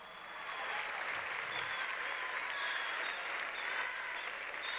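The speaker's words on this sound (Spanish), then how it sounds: "Nuevamente un fuerte aplauso para todas ellas" Large audience applauding the five finalists at a beauty pageant, a steady dense wash of clapping that holds at full strength throughout, filling the hall.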